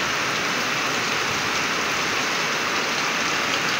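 A sudden heavy downpour in a wind-tossed yard with swaying trees, a dense, steady roar of rain beating down without pause, close and loud.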